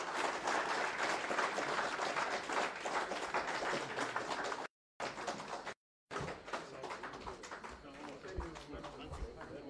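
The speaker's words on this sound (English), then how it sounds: "give a big round of applause again" An audience applauds at a staff retreat and award ceremony, a dense, steady wash of clapping that fills the room, broken by two brief dropouts before carrying on.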